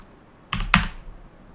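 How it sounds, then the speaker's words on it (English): Two quick, close clacks on a computer keyboard while a terminal command is typed. The second keystroke is slightly louder, and a quiet room hush follows. "You want to type in sudo and then iptables -save into this particular"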